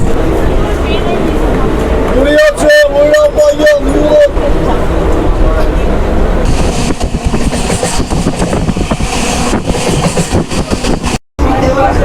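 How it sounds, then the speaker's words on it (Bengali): A train pulling into platform 1 at Krishnanagar station, rumbling and clattering loudly up close, with a burst of horn-like tones early on and platform crowd noise and voices throughout. "ট্রেনটা এখন এসে পৌঁছালো কৃষ্ণনগর স্টেশনের 1 নম্বর প্ল্যাটফর্মে"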